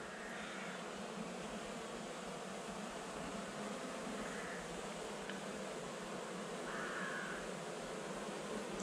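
Honey bees drone steadily around an open hive during an inspection, a continuous soft buzz with a few louder passes near the listener, no speech.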